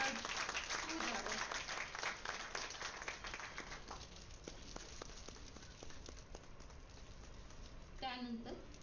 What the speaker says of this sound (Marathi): टाळ्यांचा गडगडाट होऊ द्यावा